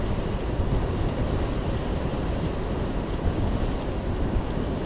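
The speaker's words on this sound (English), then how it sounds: "The wind will start slowing down." Strong wind from a bomb cyclone near Lake Superior roaring steadily as a broad, loud rush of noise with no pauses, buffeting the microphone up close.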